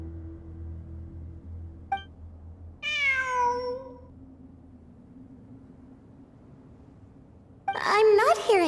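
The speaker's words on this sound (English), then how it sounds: "It really is a cat." Two bursts of a cat meowing inside the video game Genshin Impact, a short harmonic mew near the start followed by longer, clearer meows later, each standing out over a low game background hum.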